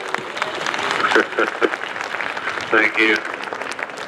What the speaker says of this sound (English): Everybody, let's hear it for a big round of applause for the World Superbike Champion.